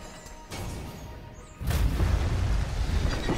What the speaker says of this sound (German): Ist so ein Ding, was explodiert?